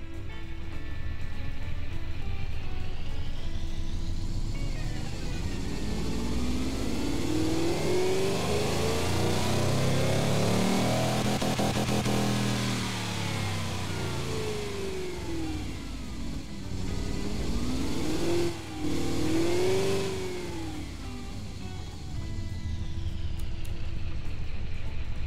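A large, loud car engine with big exhausts and glowing headers revs up and down in the Automation car-building game, climbing and falling in sweeping pitch several times over a steady roar.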